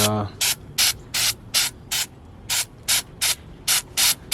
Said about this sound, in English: Let's just get to spraying this on.